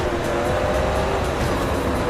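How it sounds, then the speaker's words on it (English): A 2013 Dodge Ram Runner off-road truck in the racing game Forza Horizon 2 runs with a dense, continuous engine roar under rain and tire noise, steady and loud throughout with no speech. "That's the 2013 Dodge Ram Runner. Again, a massive off-roader."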